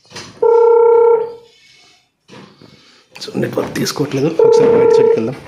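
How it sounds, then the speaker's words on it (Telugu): A ringback tone plays while a 4G solar security camera is being called: two steady, loud beeps about three seconds apart, with someone talking between and over them. "కాలర్ ఫోన్ చేసే రింగ్ అనే సౌండ్ మీకు వినిపిస్తుంది అనుకుంటా."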